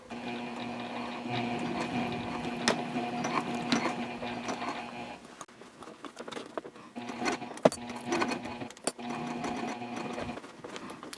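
A sewing machine stitches around the gusset of a fabric sling, running in a close, steady mechanical whir with a brief pause midway and light clicks, without talk.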